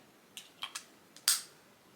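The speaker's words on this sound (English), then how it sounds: "I just wanted to spray that one because it has some creaminess to it." A perfume spray bottle: a few faint clicks and short puffs, then one sharper spritz of mist that fades quickly, in a quiet room with no talking.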